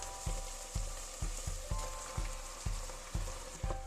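Meat sauce with tomato paste, root vegetables, dry herbs and canned tomatoes fries in a pot, a quiet steady sizzle punctuated by regular soft clicks and taps roughly every half second.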